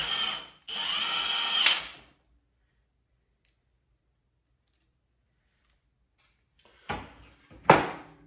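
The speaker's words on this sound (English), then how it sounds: "I can just put them in place and just have to drive a couple screws" A cordless power drill driving screws into small brackets on a camper build, two loud whirring bursts of about a second each, then near silence before a short tap and another brief, sharp drill whir close by.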